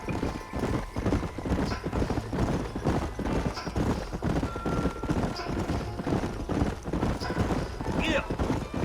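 Horses gallop with steady clip-clop hooves and an occasional whinny in the Western video game Red Dead Redemption, set in New Austin. The hoofbeats run close and continuous under game music and intermittent speech.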